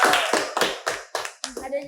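A short burst of hand clapping, several sharp claps in quick rhythm, close and fairly loud.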